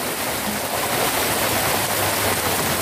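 Heavy rain pouring outdoors beside a fishing pond, a loud, dense, unbroken rushing hiss like a downpour, with no voices heard.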